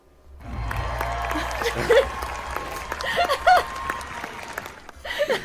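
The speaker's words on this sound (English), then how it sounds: "The applause." A burst of applause from a crowd, sustained clapping with a few louder swells, fading in at the start.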